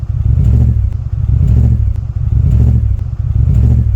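Audi RS6 engine running with its exhausts fallen off, a loud, raw, throbbing burble pulsing in a steady uneven rhythm, close and unmuffled.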